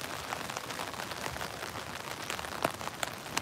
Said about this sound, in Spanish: Bajo la lluvia.